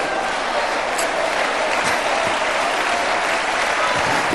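A church congregation applauds steadily at a sermon, dense continuous clapping filling the room at fairly close range with no pauses.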